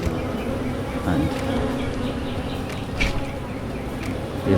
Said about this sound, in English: So as soon as I put it here, then you'll have a lot of bees.